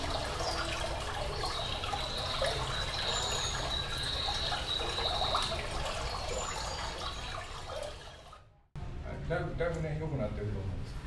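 A recording of a babbling stream plays through speakers at a hi-fi audio setup event, giving a steady rush of flowing water for about eight seconds. It cuts off abruptly, and then someone talks.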